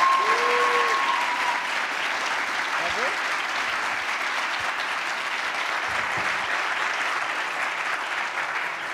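Sustained audience applause fills the hall at a French biomimicry sports-innovation final, steady and dense throughout with a few faint voices beneath.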